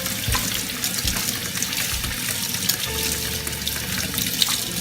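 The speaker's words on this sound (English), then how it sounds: "You got the ASMR of Angel washing his hands." Tap water runs steadily into a sink as hands are washed in a home kitchen during cooking, a close, continuous splashing rush with no talk.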